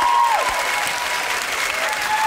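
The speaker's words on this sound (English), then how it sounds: "Give them all a nice round of applause," A television studio audience breaks into steady, full applause that holds at an even level throughout, with a few faint voices mixed in.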